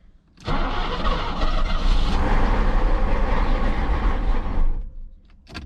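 A Mercedes W126 560SEL, off the road for 12 years, cranks and catches, then runs roughly with a loud, uneven idle for about four seconds before cutting back to quiet.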